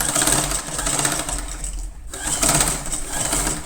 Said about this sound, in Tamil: கண்டினியூவாக அப்படியே தைக்க ஆரம்பிச்சிருங்க